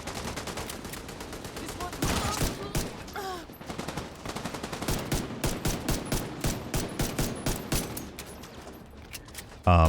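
Gunfire in The Division 2 video game: dense, loud volleys of rapid shots, heavy at first, then settling into a steady rhythmic stream of individual rounds, with a voice talking over part of it.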